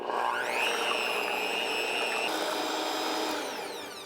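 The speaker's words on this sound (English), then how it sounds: "I'm going to beat them up here with my mixer" An electric hand mixer whirs while beating a dozen eggs, a close steady high-pitched motor whine that shifts pitch partway through and then winds down slightly at the end.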